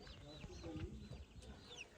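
A hen gives a few soft, low clucks nearby, with faint chirps and background rustle in a quiet outdoor village setting.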